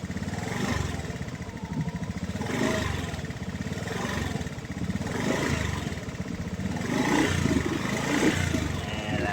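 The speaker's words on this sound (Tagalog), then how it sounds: "Taasan natin yung motor to." A motorcycle engine revved up repeatedly to charge a weak battery, a rough throaty roar that rises and falls in several long swells, close and loud throughout.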